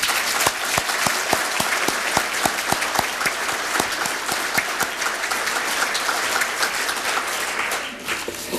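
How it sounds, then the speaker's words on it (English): An audience applauding honorees at a 1991 celebration of service, sustained crowd clapping filling the room, steady and fairly loud, tapering off in the last moment. "Let's have a round of applause for Norman and all of the rest of tonight's"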